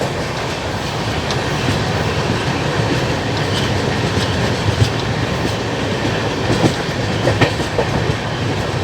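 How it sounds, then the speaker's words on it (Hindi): Garib Rath express train running on rails near Vijayawada, a steady loud rumble of wheels with faint clickety-clack joints throughout, no voices. "सामने से कोई ट्रेन आ रही है।"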